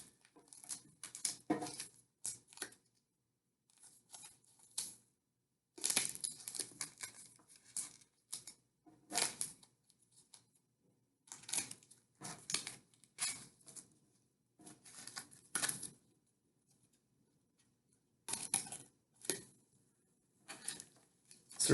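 Scissors snip open small sand packets in bursts of short, crisp cuts and crinkles. The sounds are close and quiet, separated by silent pauses.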